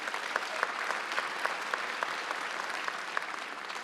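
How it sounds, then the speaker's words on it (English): Audience applauding inside Carnegie Hall at a law school commencement, a steady dense clatter of many hands sustained evenly throughout with a few sharper claps standing out, no voices. "Let's give them all a round of applause again."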